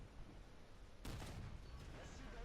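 A tank cannon fires in War Thunder, one sharp loud blast with a rumbling tail over steady game noise, aimed at a T-34 from a Lorraine 40t.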